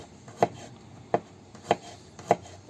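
Four evenly spaced knife chops on a cutting board as a few garlic cloves are cut finely for a mushroom marinade, each stroke a crisp, close thud with quiet pauses between.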